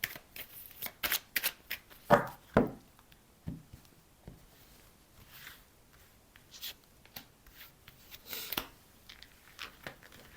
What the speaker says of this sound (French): Je vais juste recouvrir 2 cartes.